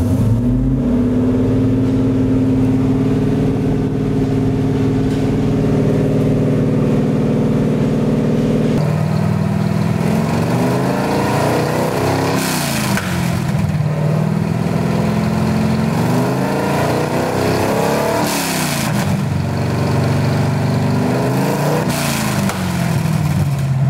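A Corvette engine runs close by, first at a steady idle, then revved repeatedly toward about 1500 RPM, each rise and fall sweeping through the loud, rough exhaust note.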